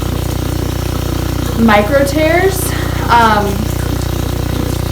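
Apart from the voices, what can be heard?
water running from a tap, hot then cold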